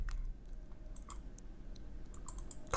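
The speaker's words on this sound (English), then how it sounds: "So I just double click" A quiet mouse click on a software installer, a couple of faint, sharp ticks over a low steady room hum, close by and with nobody speaking.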